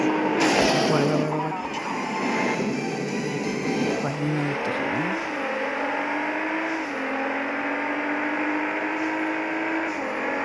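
A racing car engine roars and revs steadily, its pitch climbing and dipping as it speeds along, with a brief tire screech early on.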